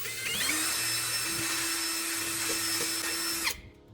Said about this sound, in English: Take your drill and make a clean hole right in the center of the bottom of the can.